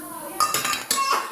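A spoon scrapes and clinks against a pan while prawn roast masala with tomato, fenugreek powder and garam masala is stirred, giving two or three bursts of metallic scraping over a low background hum.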